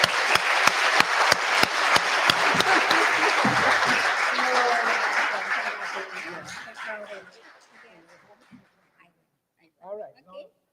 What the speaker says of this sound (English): I really want a round of applause for this minister